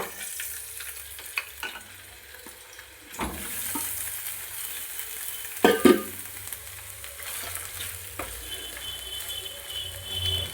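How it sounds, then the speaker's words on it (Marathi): Paneer pieces frying in a pan on a gas stove, a steady soft sizzle broken by a few clattering stirs and a louder scrape around the middle, with no talking. "सोनेरी रंग येईपर्यंत 1 मिनिटभर पनीर छान परतून घ्यायचे।"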